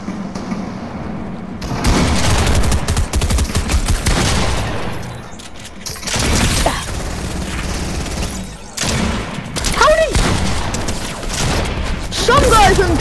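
Gunfire in the video game Fortnite during a one-on-one fight, with loud bursts of shots, heavy booms and explosive impacts coming in waves through the clip, interspersed with clanking and building sounds.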